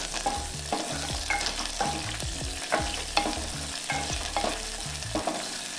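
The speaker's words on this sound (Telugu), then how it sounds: "పచ్చిమిర్చి బాగా వేగాలి।" Green chilies, fenugreek, cumin and coriander seeds frying in hot oil, a steady close sizzle broken by repeated scraping stir strokes of a spoon against the pan, with no talk.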